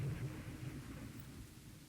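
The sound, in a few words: light rain sound from Rule The Waves 3 video game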